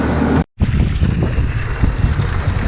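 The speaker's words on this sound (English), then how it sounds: "Wind's kicking up pretty good." Strong wind roars steadily across a microphone in a cattle barnyard, loud and close, with a brief cut-out near the start.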